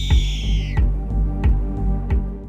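Kitten meows repeatedly in short, close, fairly loud cries spaced across a couple of seconds, with soft thumps in between.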